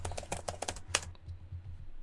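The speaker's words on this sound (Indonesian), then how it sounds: "Mengetik resep obat." Rapid keystrokes on a computer keyboard inside the horror game Pikabuu: Unhuman, a quick burst of close, crisp clicks in the first second that trails off into quiet room tone.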